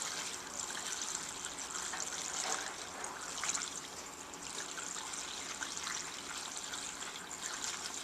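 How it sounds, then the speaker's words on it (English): Bleach and distilled water being poured into the reservoir of a Blanketroll II medical heating and cooling unit, a continuous splashing, trickling stream of liquid that stays fairly steady with small surges, heard alone. "Pour that in there. And 2 gallons of distilled water."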